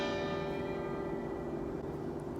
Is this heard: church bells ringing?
yes